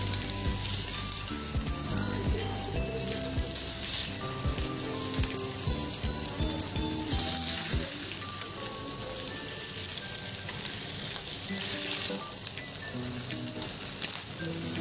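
Tikki patties fry in an oiled pan with a constant, crackling sizzle like light rain, steady and close for the whole stretch, swelling slightly at times.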